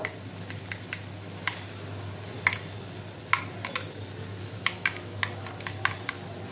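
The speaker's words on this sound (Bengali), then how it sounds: "দিয়ে দেবো ফ্রেশ ক্রিমটা, ভালো করে একটু ফেটিয়ে নেব" Fresh cream is whisked with a spoon in a bowl for hilsa fish curry, a series of quick close clinks and soft wet squishes at an uneven pace over a low hum.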